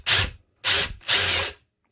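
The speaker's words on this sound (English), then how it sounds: "I'm just going to actually drill very quick" A power drill bores in three short bursts with brief pauses between them, close and loud, during a camper build in a 2009 Subaru Forester.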